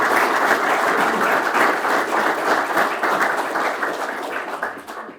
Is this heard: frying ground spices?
no